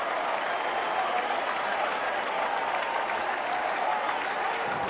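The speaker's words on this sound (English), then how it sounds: "it gets this crowd excited" A college baseball regional crowd, Manhattan College against Nebraska, applauds and cheers after a triple, a steady wash of clapping and crowd noise heard from some distance, moderately loud and sustained throughout.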